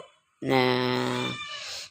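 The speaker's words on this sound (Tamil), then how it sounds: "பூனை கத்துது" A cat in a home gives one long, loud, close meow that lasts over a second and then tails off, with a faint bit of a human voice just before it.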